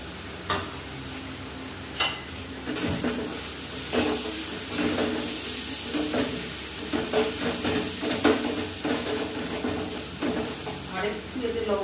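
Chicken paste frying in a cooked-down spice masala for chicken biryani, a steady sizzle with repeated scraping stir strokes close by, no talking.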